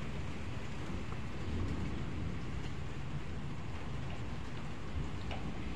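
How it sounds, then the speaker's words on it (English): Heavy rain falls steadily during a storm, a dense, continuous hiss and patter at constant loudness with no pauses or voices. "Let the storm hit, Yancey."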